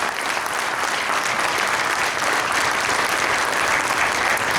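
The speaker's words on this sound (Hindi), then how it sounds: "तो एक बार जोरदार ताली, अभी तक की 10 ताली बजनी चाहिए फूड के लिए।" Loud, dense audience applause at a talk on diet and healing, a steady wall of many hands clapping without pause throughout.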